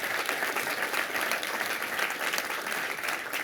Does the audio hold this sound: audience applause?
yes